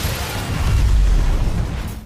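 A loud, deep explosion in a film scene set in Berlin, near a parked luxury car: a broadband blast that swells into a rumbling roar and fades away over about two seconds.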